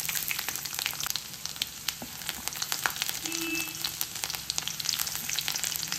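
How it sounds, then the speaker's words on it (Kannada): Garlic sizzles steadily in hot oil with mustard seeds and cumin in a kadai, a dense, even crackle with scattered small pops, close and moderately quiet. "ಸೊ ಬೆಳ್ಳುಳ್ಳಿ ಒಂದು ಸ್ವಲ್ಪ ಕಲರ್ ಚೇಂಜ್ ಆಗೋವರೆಗೂ ಫ್ರೈ ಮಾಡ್ಕೊತೀನಿ"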